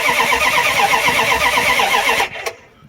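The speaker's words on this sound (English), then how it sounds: "Listen for the Starter." A Dodge Ram's 318 V8, its wiring damaged by mice, turns over on the starter in a steady, loud, continuous churn that cuts off abruptly near the end, followed by a brief click and quiet.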